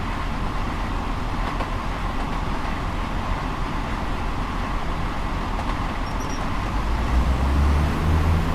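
Train wheels roll over track joints in Train Sim World's Thames Branch Lines route: a steady, dense rolling rumble with faint, evenly spaced clicks running throughout at speed.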